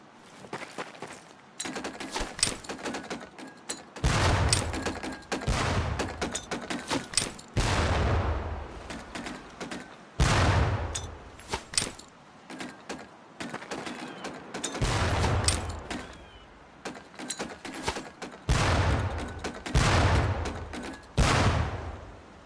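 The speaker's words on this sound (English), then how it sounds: "Pull the pin and let them fly. See if you can hit some of those barrels out there." Training grenades bursting in boot camp in Medal of Honor: Pacific Assault, a series of sharp blasts thrown at barrels, each followed by rumbling debris and crackle, spaced irregularly over the stretch at moderate distance without speech.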